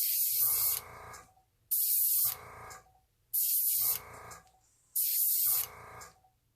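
An airbrush fed by an air compressor set to 40 PSI sprays alcohol ink in four short, evenly spaced hissing bursts, each about a second long, with brief silent gaps between them, close and clear.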